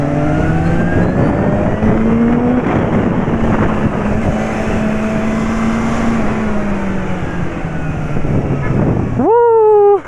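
A sports bike revs hard on the road, engine pitch climbing and dropping through quick-shifter gear changes under heavy wind rush, ending in a sharp rising rev near the end.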